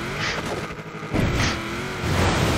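A rear-wheel-drive car's engine revving in the driving game Forza Horizon 4, a continuous loud motor drone rising and falling in pitch with whooshing surges and no talk.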